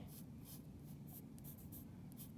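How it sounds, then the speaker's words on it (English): A pencil draws on paper, giving faint, repeated scratchy strokes in an irregular rhythm over a low background hum. "step one is to draw the wolf"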